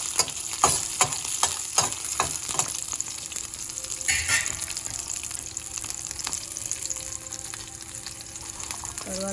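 Green chillies fry in hot oil in a pan for a Telugu mint pachadi, a close, steady sizzle broken by sharp crackling pops and a brief louder spatter midway.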